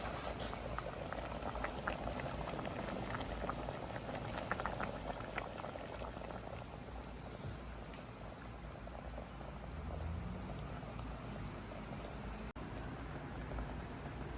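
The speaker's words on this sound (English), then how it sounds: "We got to turn this down to a very light simmer and just let it go." Grits at a light simmer in a pot, a continuous dense bubbling and popping that holds steady and close throughout, with no voices.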